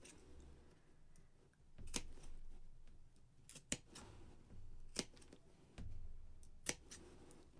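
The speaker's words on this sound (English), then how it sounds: "in each of these little rounded edges, we need to snip out little triangles" Scissors snip small triangles from the rounded edges of sewn fabric for a basket, giving a quiet, sparse series of crisp, separate clicks over a near-silent room.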